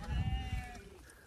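Sheep bleat on a farm where a bear with two cubs has been visiting, a sustained wavering cry standing out close and clear for most of the second, then fading into quieter background.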